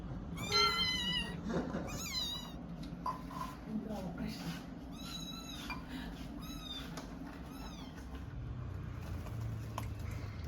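Repeated high, rising meows from a kitten, clustered in the first few seconds and again midway, set against kitchen background noise and someone talking in Malayalam.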